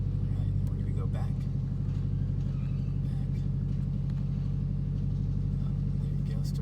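A 2018 Subaru STI engine settling into idle, a steady close low rumble with an even pulsing throb throughout, under faint talk.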